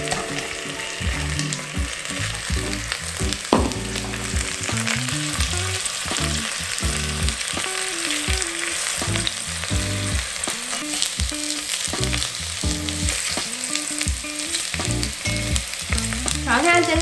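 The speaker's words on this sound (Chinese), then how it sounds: "刚煮出来的白萝卜也放下去，稍微让它煎到有一点点那种黄黄的那种感觉" Boiled white radish pan-frying in oil until golden, a steady close sizzle and crackle with a busy scraping stir running throughout, no talking.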